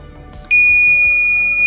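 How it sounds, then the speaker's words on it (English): A multimeter set to continuity gives a single steady, loud, high-pitched beep lasting about a second while a wire running from the front to the rear of a Porsche Cayenne is tested during a rear camera install. "I've put my voltmeter in continuity."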